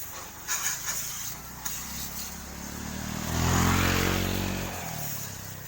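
A motorcycle engine on a ride hums steadily, then swells into a loud, rising drone before easing back down to a lower rumble.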